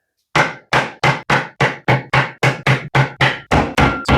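A hammer strikes a piece of wood to seat a bearing race during a QA1 suspension install, about a dozen sharp, loud knocks at an even, brisk pace.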